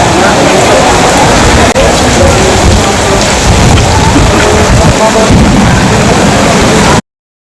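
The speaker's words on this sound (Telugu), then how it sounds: "బంగాళాఖాతంలో ఏర్పడిన ఉపరితల ఆవర్తనం కారణంగా ఏపీలో భారీగా వర్షాలు కురుస్తున్నాయి" A heavy downpour in Srikakulam, Andhra Pradesh, roars as a loud, dense, unbroken wash of rain with rumbling thunder underneath, cutting off abruptly at the end.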